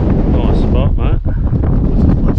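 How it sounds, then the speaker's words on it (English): Strong wind buffets the microphone at a fishing spot on Cape York, a loud, steady roaring rumble with gusty swells filling the whole stretch. "Windy though, as you can probably hear."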